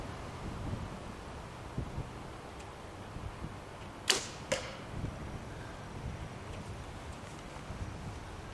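An arrow is loosed from a bow with a mechanical release, giving a quick sharp snap and a second fainter crack just after, heard outdoors over steady wind and light rustling.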